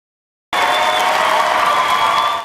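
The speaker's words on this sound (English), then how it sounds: "cheers and applause, welcomed Mayor Tom Menino into Faneuil Hall" A crowd in Boston's Faneuil Hall gives Mayor Tom Menino a standing ovation, loud applause and cheering bursting in abruptly after a moment of silence and holding steady, with a sustained tone running through the noise.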